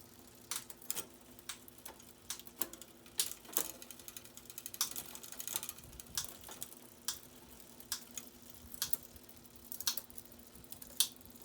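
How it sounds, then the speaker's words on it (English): Rear derailleur on a cheap Trek hybrid bike shifting through its gears: quiet, crisp ratcheting clicks and ticks come at irregular intervals, close up over a faint background hum. "I'm gonna do the back gears first, see how they adjust, see how they work."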